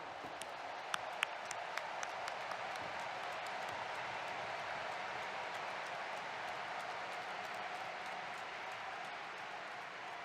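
Audience applause at a Billy Graham crusade 50th anniversary gathering in a large hall, welcoming an interpreter; steady, dense clapping from a big crowd that continues unbroken for about ten seconds, with a few sharper claps near the start.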